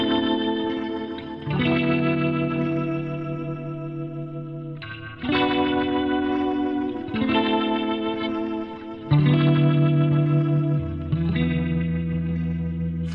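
Electric guitar chords run through a rotary effect on a Fender Tone Master Pro, with pre- and post-dynamics engaged. Four sustained, swirling chords ring out in turn, each left to decay before the next, with no talking.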